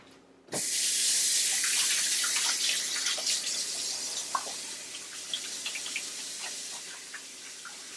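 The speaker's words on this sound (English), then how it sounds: "I gotta wash my hands." A kitchen tap suddenly turns on and runs steadily while hands are washed under it, a close, full rush of water with small splashes and drips that eases off slightly over time.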